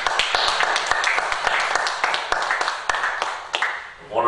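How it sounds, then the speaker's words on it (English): Church congregation claps through a loud, continuous round of applause with sharp individual hand claps standing out. It lasts about four seconds and tapers off at the end. "round of applause"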